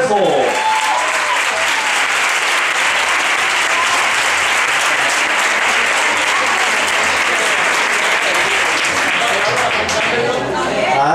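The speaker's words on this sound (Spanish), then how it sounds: "esos han sido los aplausos del público" A studio audience applauds loudly and steadily after a contestant's performance on a TV talent show gala, the dense clapping running continuously without a break.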